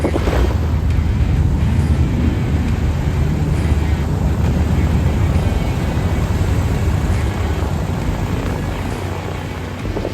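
A Marchetti SF-260 fighter-trainer engine idles with propeller drone before taxi, a steady loud low rumble with wind buffeting the microphone throughout.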